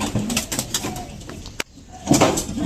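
Pigeons, including a mated pair, coo in low soft throaty bursts with a sharp click midway, heard close by and moderately loud.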